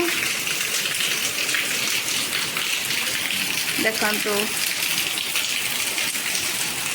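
Steady rain patters down in a constant wash, with a person's voice speaking briefly partway through.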